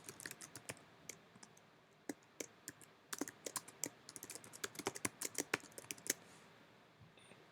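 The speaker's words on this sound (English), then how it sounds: "and then you can just start typing" Typing on a computer keyboard while entering a title and caption: quick, uneven bursts of close, crisp key clicks, sparse at first and then denser, with no voice over them.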